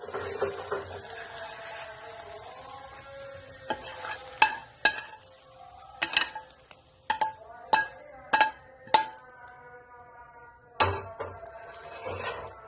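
Karela and onion bhurji cooks in a pan, a soft sizzle under repeated spatula scrapes and sharp metallic clinks against the pan, coming in irregular bursts.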